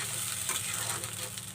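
Ground spice paste sizzles and is stirred in a hot pan over browned onions for a beef curry, a bright continuous frying hiss with soft scraping stirs, close and brief.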